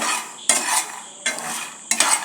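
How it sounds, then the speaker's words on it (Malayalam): Peanuts roasting in a pan, stirred in three bursts of dry scraping and rattling over a steady hiss, close and fairly loud with no voices. "കടല വറുക്കണം കേട്ടോ"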